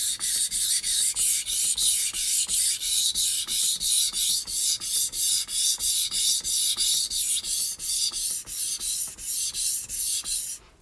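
A Japanese knife blade scrapes rhythmically across a whetstone, steady back-and-forth gritty strokes repeating at an even pace, close and clear with no talking.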